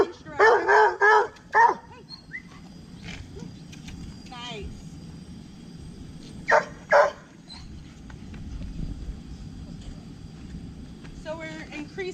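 A dog on a leash barks in two bursts, a quick cluster of sharp barks and then a couple more a few seconds later, with brief whines and a person talking quietly outdoors between them.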